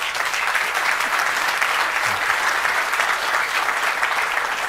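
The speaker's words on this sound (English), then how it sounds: "So let's do a massive round of applause for our panelists." An audience at a panel discussion on AI, algorithms and democracy gives the panelists steady, sustained applause, a dense wash of clapping with no gaps.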